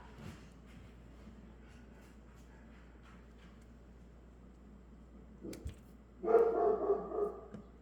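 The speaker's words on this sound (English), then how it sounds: "That's my dog, Sophie." A pet dog barks indoors during quiet jewelry making, a short burst of a few close, loud barks near the end after a long, nearly silent stretch.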